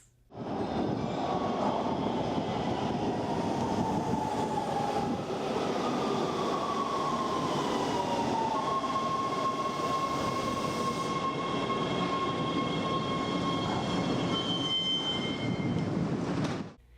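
A Los Angeles metro train rumbles past continuously, with steady wheel noise and drawn-out metallic squeals rising and fading over the roar.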